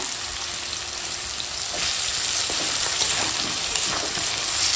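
Malabar spinach stalks, onion, potato and pumpkin fry in hot oil with a steady, loud, close sizzle that swells slightly partway through and holds without pause.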